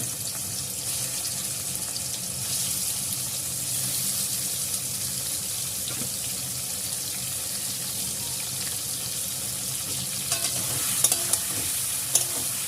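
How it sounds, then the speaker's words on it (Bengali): Prawns fry in a wok with a steady hiss and occasional stirring. A loud, continuous, watery wash that may be a running tap runs under it, and a few sharp clinks come near the end. "কড়ার মধ্যে দিয়ে দেবো চিংড়ি মাছগুলো, এগুলো ভেজে নেব।"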